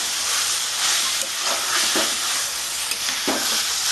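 Mutton liver fries in a pan as toast crumbs go in, producing a loud, dense hiss and sizzle with a few soft stirring scrapes layered over it.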